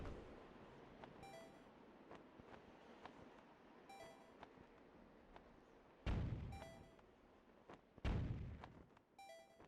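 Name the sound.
cannon firing in the video game The Wind Waker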